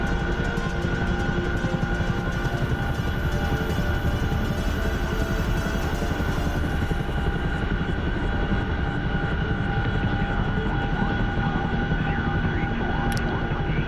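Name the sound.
A-10A attack jet flying, from a video game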